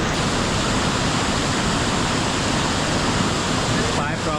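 Chinchoti waterfall near Naigaon, a monsoon trek spot near Mumbai: a steady, loud, broadband roar of falling water fills the whole stretch without letup, close by.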